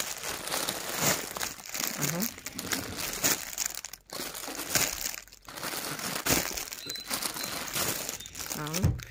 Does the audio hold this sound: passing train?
no